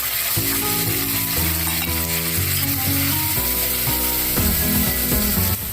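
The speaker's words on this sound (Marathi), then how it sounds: "जोपर्यंत आपला मसाला तेल सोडत नाही तोपर्यंत फ्राय करायचं" Onion and masala gravy frying in oil for a spicy chicken kharda, a steady loud close sizzle with bubbling crackle and scraping stirring throughout, alone without talk.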